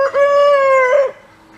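A single chicken on a farm gives one loud, close call, a sustained harmonic note lasting about a second that then cuts off into quiet.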